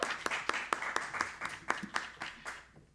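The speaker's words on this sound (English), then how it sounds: "another big round of applause for the Quarantine Trio" A small audience at a barn fundraiser claps for the Quarantine Trio, a handful of distinct, fairly quiet hand claps in an uneven rhythm that fades out near the end.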